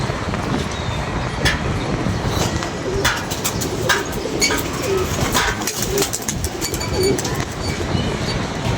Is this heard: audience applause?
no